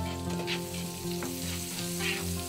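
Butter sizzles on a hot tawa while sweet bread is being made, a loud, continuous crackling fry heard up close with a steady background hum and a few soft stirring sounds, no talk.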